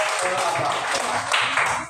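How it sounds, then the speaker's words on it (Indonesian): A classroom of students applauds a group of classmates, with brisk, close clapping running for a moment under some light background voices. "Tepuk tangan kepada kelompok"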